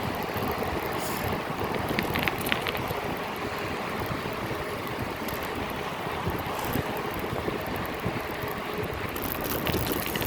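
A racing bicycle ridden along a beach path on Sanibel Island, Florida, with tires inflated to 80 pounds, giving a steady close rolling rumble with wind buffeting the microphone and occasional faint mechanical ticks, no talking.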